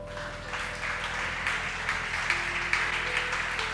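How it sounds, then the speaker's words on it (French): A church congregation claps and acclaims during a French-language Pentecostal-style sermon, a steady dense wash of applause over sustained background music tones, continuous and moderately loud throughout. "Acclamons Jésus"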